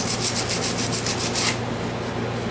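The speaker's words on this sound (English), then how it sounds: "That's why I'm sanding down on it" A wooden handle is sanded by hand, with about nine quick, rhythmic rasping strokes close by over the first half, then a steadier, softer rubbing hiss.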